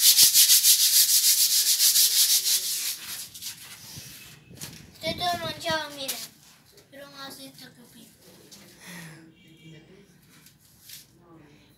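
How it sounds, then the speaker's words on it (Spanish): Brisk sanding scrapes rapidly against a surface for a couple of seconds, then stops as a person begins talking nearby. "También ya lijo esta parte."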